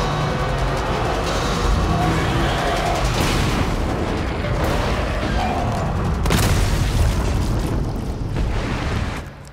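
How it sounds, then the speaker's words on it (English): Heavy booming explosions from Resident Evil 2 Remake roll through dense, noisy action audio, with several loud blasts punctuating a constant rumble. "Cool guys, don't look at explosions."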